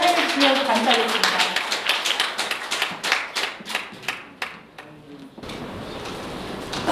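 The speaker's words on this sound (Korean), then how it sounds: "힘찬 박수로 오늘 환영해 주시면 감사하겠습니다" An audience at a party council launch event in Korea claps to welcome a speaker to the stage, dense loud applause that thins into scattered claps before fading to room noise.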